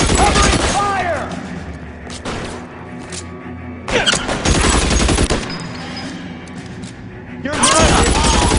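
Heavy covering gunfire roars through an L.A. Noire shootout, loud sustained volleys with short gaps, mixed with shouted voices and impacts.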